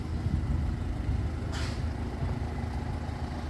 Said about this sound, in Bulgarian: мотора работи перфектно